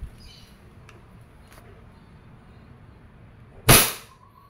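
A single sharp airsoft shot from a Double Bell 1911 MEU semi-automatic pistol during a chronograph velocity test, a crisp close crack against quiet background hiss.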